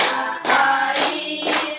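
A group of people gives three sharp bursts of hand clapping in a classroom, each burst loud and close, with short gaps between them.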